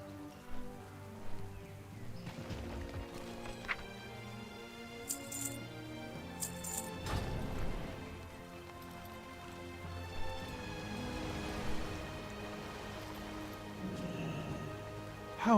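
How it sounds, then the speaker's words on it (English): Rain falls over Stormwind in World of Warcraft, a soft steady patter mixed with game music tones and occasional footsteps or hoof clops, moderately quiet throughout. "It's raining in Stormwind"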